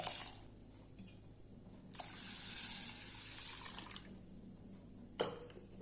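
Water pours steadily into a bowl of soaking lentils for a few seconds, a close bright splashing stream, then stops, with a small splash near the end.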